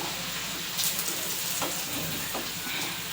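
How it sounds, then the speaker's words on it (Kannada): Greens for a soppu palya stir-fry crackle and sizzle loudly and steadily in a hot pan, with faint scraping from stirring mixed into the close, constant frying hiss. "ಚಲೋ ಫ್ರೈ ಮಾಡಬೇಕು"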